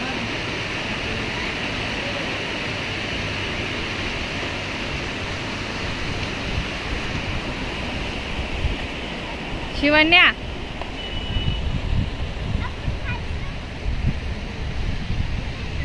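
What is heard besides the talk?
flowing water stream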